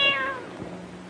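A single clear cat meow, falling in pitch, close by and fairly loud, with faint room noise after.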